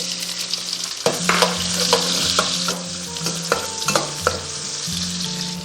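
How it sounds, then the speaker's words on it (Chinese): Scallion, ginger and garlic stir-fried in rendered pork belly fat: loud, constant sizzling close up, with repeated spatula scrapes and clanks against the wok and no talking. "像这样炒出油脂过后，我们下入葱姜蒜，"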